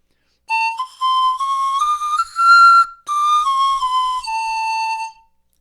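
A wooden Jorvik historical replica panpipe plays a short melody of pure, breathy whistling notes that step up and down in pitch. The phrases are close and clear, with brief gaps between them and no talk.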